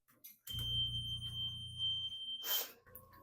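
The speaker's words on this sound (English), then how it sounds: "I'm going to get my oxygen concentrator turned on" An oxygen concentrator starts up with a steady low mechanical whir and a sustained high electronic beep, followed by a short burst of hissing air; the sound is fairly quiet.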